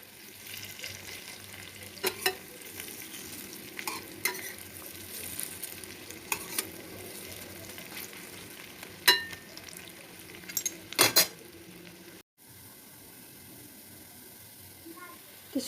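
Fritters (bara) frying in oil after being turned, a low continuous sizzle with scattered sharp clicks and scrapes of a utensil against the pan, nearby and without talk.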